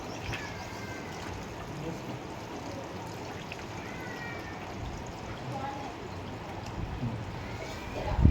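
Running water splashes and trickles steadily as cleaned fish is rinsed with salt and water in a home kitchen, a continuous close wash with voices talking over it.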